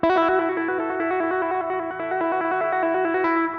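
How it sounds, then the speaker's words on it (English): Overdriven electric guitar with chorus-like effects plays a rapid, continuous trill, two notes alternating quickly for a few seconds, loud and close, with no speech. "you're probably familiar with trills that sound like this."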